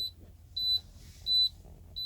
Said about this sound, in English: that's just the truck beeping because the lights are left on